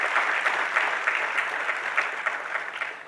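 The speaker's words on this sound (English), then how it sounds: "we should give a big round of applause to Matthew and his contribution" Crowd at a foundation day celebration giving a round of applause: dense, steady clapping that fills the space and holds evenly before easing slightly at the end.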